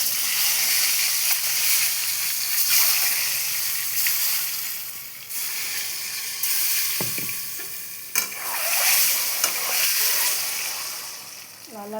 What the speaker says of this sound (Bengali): এক করে ডিম আমি লাল লাল করে ভেজে নেব।